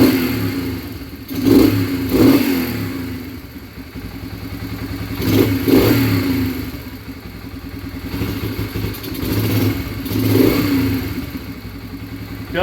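A Yamaha TTR 125 motorcycle engine runs close by at a steady, quiet idle, with a few gentle swells in revs rising and falling every few seconds.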